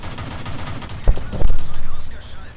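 Shell fire from a Pz1C tank in the game World of Tanks bursts out in a couple of loud, sharp blasts followed by rapid repeated firing, with a voice underneath.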